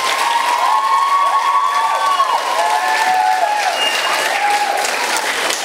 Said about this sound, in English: Let's give these 8 another round of applause.